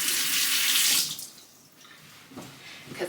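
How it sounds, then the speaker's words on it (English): Tap water running steadily into a sink for hands to be washed, fairly loud for about a second, then dropping away to quiet room tone with a couple of soft knocks near the end. "I'm gonna wash my hands first"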